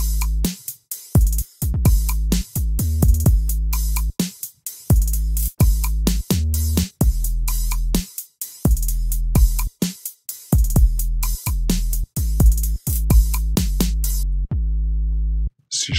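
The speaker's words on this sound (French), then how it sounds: "On va s'écouter la 808 sans traitement, ce qui va nous donner ceci avec les drums." Unprocessed 808 bass booms deep and loud under a drum pattern, its long sliding low notes stopping and starting in rhythmic bursts with short silent gaps between phrases.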